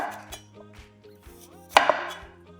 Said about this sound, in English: Just cut off the outer layer and slice it up.